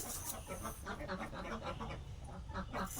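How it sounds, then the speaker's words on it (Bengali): Domestic ducks kept at a village home quacking in a rapid run of nasal calls, fairly faint and somewhat distant, with rustling background noise. "আমার মার কতগুলো পালা হাঁস দেখেন"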